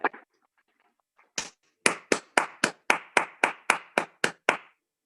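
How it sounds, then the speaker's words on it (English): One person claps about a dozen times in a steady rhythm over a video call, sharp and close, after a single stray clap and a short pause. "a big round of applause for today's efforts"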